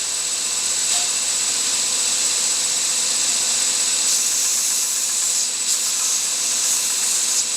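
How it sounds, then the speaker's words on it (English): A grinder works down a forged wood carving knife blade, a loud continuous high hiss that holds steady with slight surges and dips, no voices over it. "Gonna have to grind this one down."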